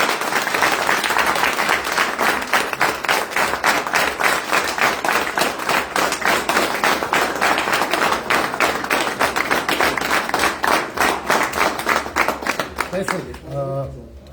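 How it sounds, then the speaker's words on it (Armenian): Audience at a political gathering applauding together for the people of Gyumri, a loud sustained burst of clapping settling into a rhythmic, unified beat, fading out at the end as a voice begins speaking. "առաջարկում եմ գյումրեցիներին ծափարել, բոլորս միասին ծափարել"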